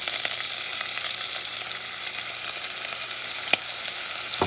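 Onions fry in oil for coconut curry lamb with a steady, close sizzle, broken by a sharp tap or two of a utensil near the end.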